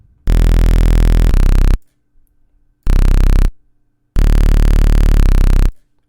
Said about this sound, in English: so that's a pretty deep bass